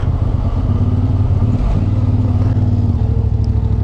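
A CFMoto 450 MT or Honda CRF 250 Rally descends a mountain trail on engine braking, its engine a loud, steady low thrum with a slight pitch change partway through, up close and constant.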